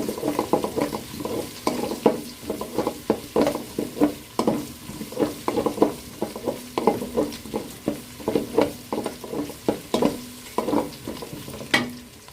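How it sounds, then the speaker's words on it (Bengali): Washed moong dal is stirred into fried onions in a pot for chicken bhuna khichuri, producing rhythmic scraping strokes over a continuous sizzle, close and loud, with no voices. "পেঁয়াজটাকে ভালো করে ভেজে নিয়ে এতে দিয়ে দিব ধুয়ে রাখা মুগের ডাল"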